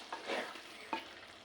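A spoon stirs tomato, onion, green chili and curry leaves into restaurant-style beef masala curry, giving two quiet scraping strokes over a faint sizzle.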